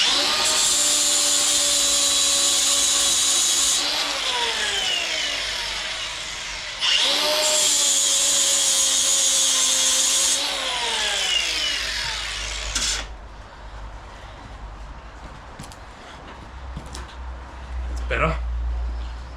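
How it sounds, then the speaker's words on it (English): A power grinder works on a burnt-over hole in a hoe pin: two long, loud, high whining runs whose pitch sags under load between spin-ups. Quieter scraping and a few knocks follow once it winds down. "we'll just have to get the grinder and grind that so we can pull it out"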